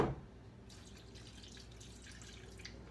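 Liquid poured into a container on a farm while hatching chicks, a brief soft splash at the start followed by faint dripping and trickling.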